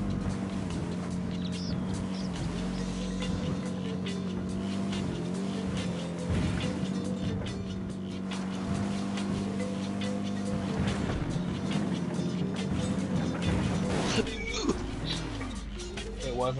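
A car engine in Tom Clancy's Ghost Recon Wildlands drones steadily with revving and tire squeals, louder near the end, while people talk over it.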